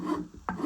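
A metal file rasps across a metal piece being smoothed of coarse file marks, with two or three short scraping strokes close by.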